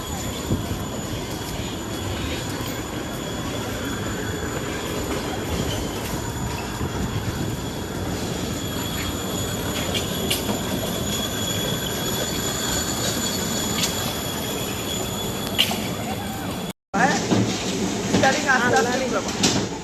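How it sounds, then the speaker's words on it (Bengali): A metro train rumbles past steadily with metallic rail noise and faint wheel squeal, continuous for most of the clip, with voices talking over it. "ওই যে মেট্রো রেলে যাচ্ছে"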